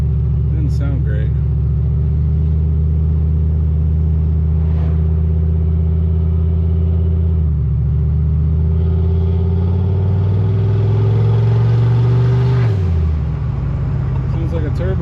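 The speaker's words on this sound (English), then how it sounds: "It makes some turbo noises, that's for sure." A car engine with turbo noises pulls hard and close, its drone climbing in pitch, dropping at each gear change and climbing again, with a rumbling undertone over about fifteen seconds.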